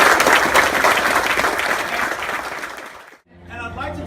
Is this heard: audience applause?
yes